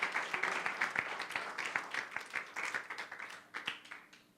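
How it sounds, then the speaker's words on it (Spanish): A church congregation claps at low level, the quiet claps falling in a fairly regular, rhythmic pattern like clapping along during worship. "dale un fuerte aplauso al Rey"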